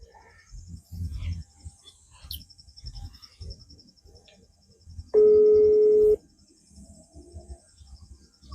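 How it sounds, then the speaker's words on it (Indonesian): A telephone rings once in a bamboo-forest camp, a single steady electronic tone lasting about a second midway, with scattered low voices and ambient night noise before and after. "Telepon, telepon."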